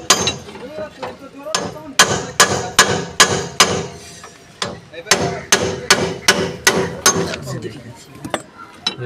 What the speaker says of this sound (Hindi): ये देखिए, यहाँ हल्का हल्का ठोकेंगे, ये बोन टाइट पर जो है लॉक हो जाता है।